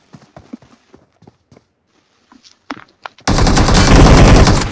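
Rapid, loud automatic gunfire erupts in a video game, a dense sustained burst filling the final stretch after sparse quiet clicks and taps.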